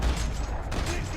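A rapid, loud, sustained burst of video-game gunfire fills the whole short moment, dense and close with no pauses.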